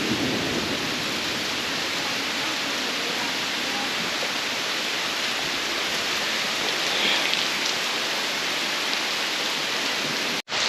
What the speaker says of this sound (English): It's raining for like, what, 20-30 minutes?